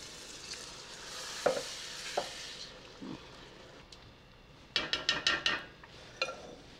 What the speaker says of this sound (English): Let's add the tomato and its juice that we have passed in the food mill.